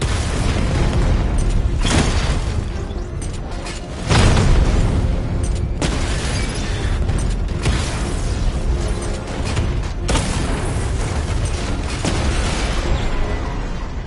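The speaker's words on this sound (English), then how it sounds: "Your 60mm cannon will penetrate these heavily armored units, but it'll take a few direct hits to destroy them." Heavy booming blasts from the Batmobile's 60mm cannon firing at armored units in Batman: Arkham Knight, repeated roughly every two seconds over a continuous loud mechanical rumble of game combat.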